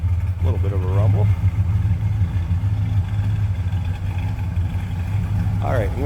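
A 1964 Chevrolet Chevelle Malibu SS with a 283 V8 idles with a steady, low, lopey rumble that runs throughout, close and continuous, while someone talks over it at the start and again near the end.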